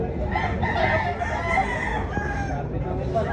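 A gamecock crows loudly nearby at a rooster expo in Consolacion, Cebu, its long drawn-out call rising and falling, while people talk in the background.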